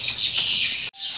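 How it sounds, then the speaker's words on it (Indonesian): Birds chirp and twitter inside a dark swiftlet nest house, a dense high-pitched chorus of calls that cuts off abruptly, then a fainter chirping resumes. "di sini ini mendengar tuh bunyi-bunyi sarang burung tuh"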